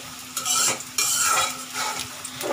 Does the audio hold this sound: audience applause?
no